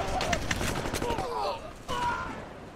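Rapid bursts of gunfire from the gangster video game Gangsters 2: Vendetta crackle through the first half, with a player talking over the shots.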